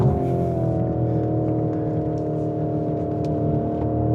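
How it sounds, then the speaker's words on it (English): Lamborghini Urus SE engine and exhaust holding a steady, loud rumble with a continuous drone throughout, heard from inside or near the SUV without talk. "I can hear the exhaust rumble and burbles and pops"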